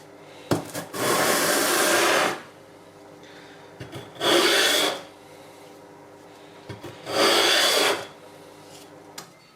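A sharpening stone's sharp edges are chamfered, producing three loud, close gritty rubbing strokes, each lasting roughly one and a half to two seconds, separated by short quiet pauses with faint handling clicks.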